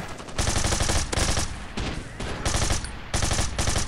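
A gun fires in the video game Bullet Force in loud, rapid automatic bursts, with about five sustained volleys separated by short gaps, close and dominant with almost no talk.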